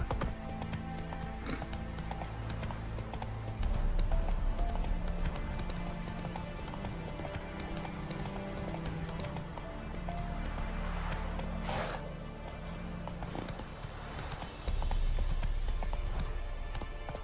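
A horse's hooves clip-clop at a brisk pace in The Witcher 3, a dense, continuous run of hoofbeats over game ambience, growing louder in bursts, with an occasional snort and no talk.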